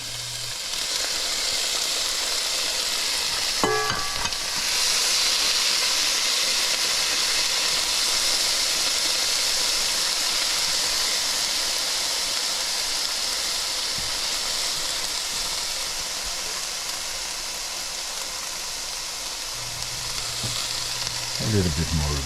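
Onions, ginger and thyme fry in a pan with butter and oil, a steady loud sizzle that holds throughout, with a brief clink of a utensil partway and soft stirring scrapes near the end.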